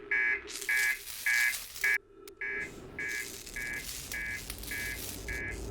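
An electronic alarm beeps in a steady repeating rhythm of short buzzing tones, pausing briefly once, then continuing over a low rumbling background.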